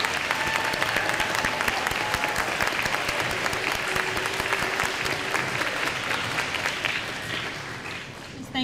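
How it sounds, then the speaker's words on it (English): An elementary school audience claps at an award ceremony, a dense, sustained burst of applause that fades slightly toward the end. "Let's give you all a round of applause."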